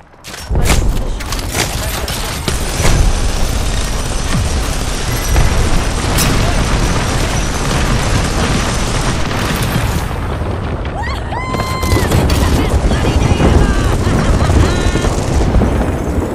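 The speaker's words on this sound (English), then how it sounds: "Throwing arc star." An arc star grenade blast in an Apex Legends match, buried in sustained loud combat of booming explosions and rapid gunfire that lasts about sixteen seconds, with some game voice chatter mixed in.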